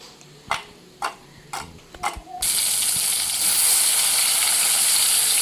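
Bitter gourd (kakrol) slices hit a hot pan with a few sharp clicks, then break into a loud, steady, close sizzle of frying that holds to the end.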